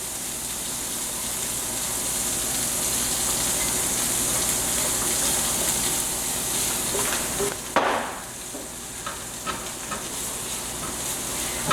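Garlic sizzles steadily in a hot pan for shrimp and linguine, a dense continuous frying hiss with a brief stir or clatter partway through, close and loud with no talking.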